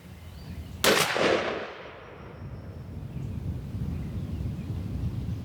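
A single sharp shotgun blast from a Stevens 301 20 gauge firing a Kinetic TSS shell cracks close by outdoors and fades into a brief echo, followed by quiet ambient rumble.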